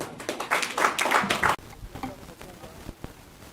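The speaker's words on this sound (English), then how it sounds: "A round of applause for me." Dense, rapid clapping from an audience at the launch event of a business organisation fills the first half, loud and close, then breaks off abruptly into a quieter room with scattered faint taps.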